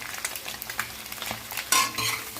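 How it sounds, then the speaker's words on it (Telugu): Egg fried rice ingredients, with salt just added, are stirred in a hot pan: a short burst of utensil scraping and light sizzle, close and clear, swelling louder near the end. "వేసుకున్న తర్వాత ఒకసారి తిప్పుకోవాలి."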